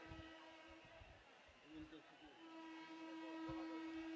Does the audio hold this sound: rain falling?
no